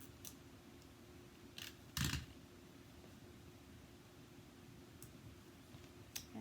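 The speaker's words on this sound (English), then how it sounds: "I'm just going to cut these apart, just leaving a tiny border all around the words." Scissors cutting apart a paper sheet of words for a handmade card, a few crisp snips standing out faintly over a steady background hum.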